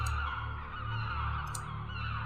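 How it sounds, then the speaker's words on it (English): Birds circling above a shore in the video game The Last Door, with repeated honking calls over a constant, humming ambient bed. "Many birds circle in the sky overhead."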